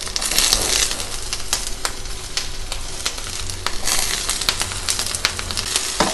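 White onions sauté in a pan with a loud, continuous crackling sizzle and occasional sharp spatters and stirring scrapes nearby. No voices are heard.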